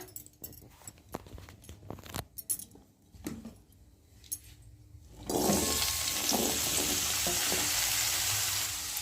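Malabar spinach and potatoes dropped into hot oil in a kadai: scattered clinks and stirring at first, then a sudden loud, continuous sizzle that fills the rest.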